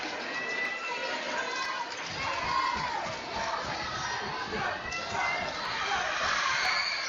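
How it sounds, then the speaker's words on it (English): A gym crowd at a Robbinsville varsity basketball game against Hayesville roars in a sustained noisy swell of cheering and shouting, with an announcer's voice running over it. "Well, this crowd is on fire. It's electric in here."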